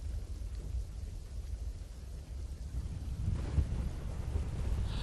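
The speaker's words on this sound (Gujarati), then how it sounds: "દ્વારકાની અંદર પવન નહીં પરંતુ વહેલી સવારથી ઝરમર વરસાદ પણ ચાલુ થઈ ગયો છે" Strong wind buffets the microphone with a steady roar during Cyclone Biparjoy in Dwarka, drizzle and rumbling gusts swelling louder toward the end, with no voices.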